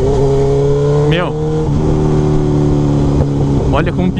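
Engine of a remapped 2004 Suzuki GSX-R 1000 K4 SRAD motorcycle, loud and close, holding a steady idle with brief rising revs and crackling pops from the exhaust, someone talking over it.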